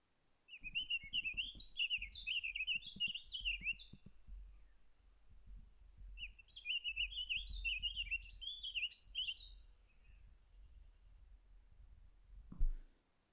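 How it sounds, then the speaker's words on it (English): Warbling vireo song plays from a birding app through a phone speaker, two long, rambling, connected warbled phrases with a pause between, over faint low handling and background rumble. "I'll just pull the warbling vireo up on the Sibley app"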